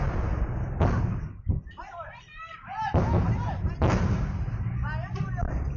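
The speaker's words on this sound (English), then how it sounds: "That's a bunch of artillery fire." Bursts of artillery fire during the Thailand–Cambodia border conflict, several sharp, loud blasts spaced a second or so apart with rumbling tails, and voices talking between the impacts.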